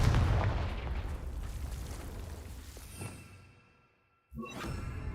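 A Confringo fire spell from the Hogwarts Legacy video game erupts as a loud, sustained burst with rumbling body that fades and drops to near silence, followed by another sharp blast.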